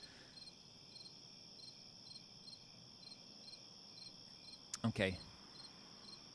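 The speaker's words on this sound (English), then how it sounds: "totally need some crickets to fill the pauses" Crickets chirp in a steady, even pulse that carries through the whole stretch, faint and continuous, with a brief spoken word breaking in near the end.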